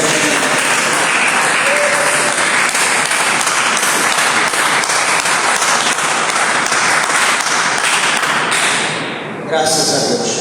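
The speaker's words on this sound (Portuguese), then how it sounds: "Podeis ter uma salva de palmas bem alegre para Jesus" A church congregation applauds at a Portuguese-language service. The clapping is loud, dense and sustained, then dips briefly near the end before rising again.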